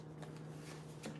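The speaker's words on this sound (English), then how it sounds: "I'm drawing new cards on top of this." Tarot cards shuffled and drawn by hand, a brief quiet riffle with a couple of soft card flicks close by and no talking.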